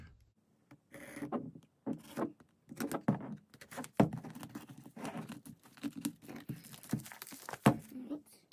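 Cardboard product packaging for a multifunction LCD program box being cut open and unwrapped, with close scraping, crinkling and tearing bursts in an irregular rhythm, interrupted by brief pauses.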